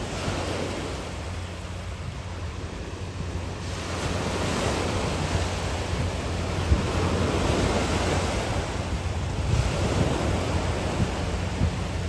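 Rough surf crashes at Dolomite Beach in Manila in a steady, broad roar with gusting wind buffeting the microphone; waves surge louder at moments, no voices.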